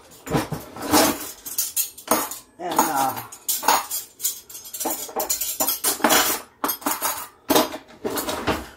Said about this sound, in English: So, mostly just silverware and cups and glasses.